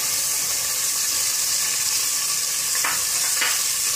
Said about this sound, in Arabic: نرمي عليهم اللحم ديالي يتقلى